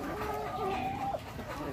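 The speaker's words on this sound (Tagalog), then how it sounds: "gutom na naman yung mga alaga nating manok" Backyard chickens cluck and call while being fed leaves, a few short tonal clucks close by over a low murmur of background noise.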